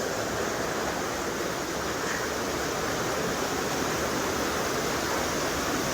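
Waterfall roaring in a steady, dense rush of falling water, constant and unbroken throughout with no voices.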